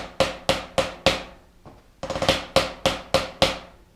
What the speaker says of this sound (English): We're going to dress it up with a 5-stroke ruff.